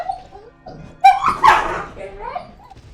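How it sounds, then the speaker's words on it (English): A dog barks and whimpers near the microphone in a few short, loud bursts and yips, with a person talking in the room around it. "Lola doesn't like the other dog."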